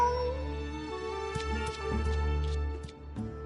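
A cat meows in the Genshin Impact video game, a few drawn-out mewing cries laid over steady game music with a low hum, no one speaking.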